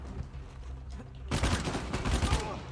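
Grenades burst in quick succession during frantic combat in Uncharted 4, a loud cluster of blasts and crackling debris arriving suddenly after a quieter stretch.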